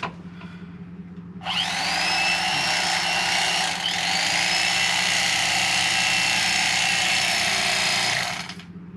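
A power blade saws steadily through a Tuft and Needle foam mattress laid over plywood, a loud continuous whining buzz starting after a quiet moment and running unbroken for about seven seconds, with a brief dip midway.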